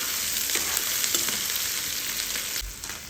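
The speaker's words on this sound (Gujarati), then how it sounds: "તો આપણે ગેસ પર દઈશું ધીમો અને એને સાંતળવા દઈશું" Ivy gourd and chilies sauté in oil over a low gas flame, giving a continuous close sizzle with a few faint stirring scrapes and no voices.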